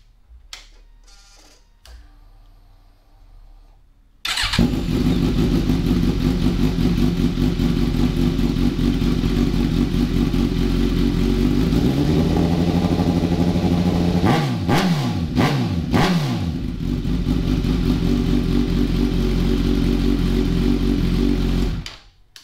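A 2020 Suzuki GSX-S1000 motorcycle fires up after a few quiet clicks, then idles loudly and evenly with a deep rumble. Several sharp throttle blips follow midway before it settles back to idle and shuts off.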